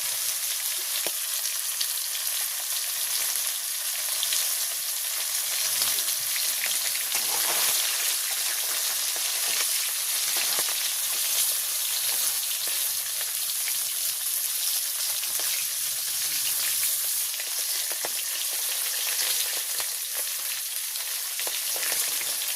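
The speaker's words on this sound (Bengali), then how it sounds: "তো আমার এই মাছটা ভাজি হয়ে গেছে, আমি এখন নামাই নিচ্ছি।" Hilsa fish frying in mustard oil in a village kitchen, a loud, continuous bright sizzle and crackle of hot oil that holds steady throughout, with faint stirring noises and no talk.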